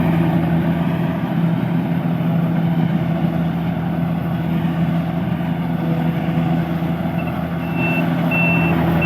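The engine of a rice harvesting vehicle drones steadily and loudly at close range in the field, a constant heavy hum with a faint high beeping near the end.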